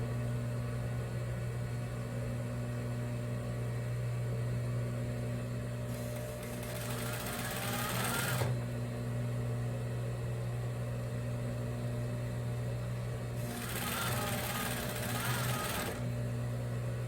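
A sewing machine stitches fabric for a Christmas cushion in two separate runs of a couple of seconds each, close and clear. A steady motor hum continues through the pauses, and no one speaks.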